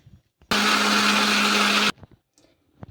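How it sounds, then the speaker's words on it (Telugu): A mixer grinder grinds soaked rice into dosa batter with coconut and curd, a loud steady whirring burst of about a second and a half, with faint kitchen knocks before and after. "కొన్ని వేసుకొని మిక్సీ పట్టేసుకుందాము"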